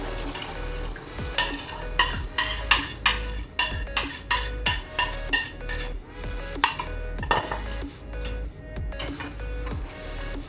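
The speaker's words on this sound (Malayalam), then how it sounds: "ഇത് നമ്മൾ ഇനി നന്നായി ഇളക്കി കൊടുക്കണം കൈ വിടാതെ ഇളക്കി കൊടുക്കണം" A thickening cornflour halwa mixture is stirred nonstop in a pan, giving a run of close, sharp metallic scrapes and clinks against the pan in quick uneven rhythm over a faint sizzle, with no speech.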